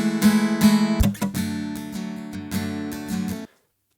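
Acoustic guitar for a song with the chokes redone using a pick: bright strummed chords that are sharply cut off at intervals, then ring on until a final clean stop into silence.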